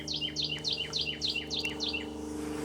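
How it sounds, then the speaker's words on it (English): A cardinal sings a steady series of about seven clear, repeated whistled phrases, evenly spaced and moderately close, over a constant low background hum. "That's a cardinal."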